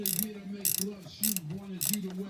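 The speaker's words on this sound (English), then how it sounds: "so I can get to the nut above the pulley on the tensioner" Wrench ratcheting on the nut above the belt tensioner pulley of a Dodge SRT-4, four short bursts of clicking pawl with a creaky mechanical whir between them, close up.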